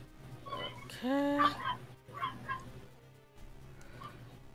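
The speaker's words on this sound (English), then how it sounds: "That's an unhappy puppy right there. They always bark at everything. I mean, they're chihuahuas." Chihuahuas heard during a Zelda: The Minish Cap gameplay session, yapping and whimpering in short bursts with a high whining yelp, fairly close and mixed with background game audio.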